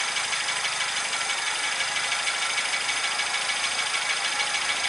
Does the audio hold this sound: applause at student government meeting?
no